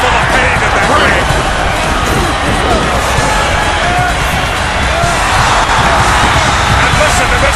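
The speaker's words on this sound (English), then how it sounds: "listen to this capacity crowd coming to their feet almost" A capacity arena crowd roars and cheers in a WWE wrestling video game, a dense, loud, continuous wash of fan noise with a commentator talking over it.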